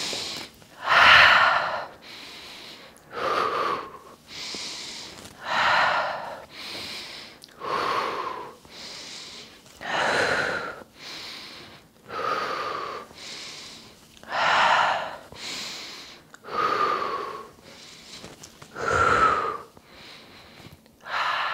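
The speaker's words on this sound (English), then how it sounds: "Take a big breath in with your hands over your belly. Big breath out." Deep, slow breathing during a guided movement session, with a long inhale and a long exhale repeating about every two seconds. The breaths are close, clear and airy, alone without talk.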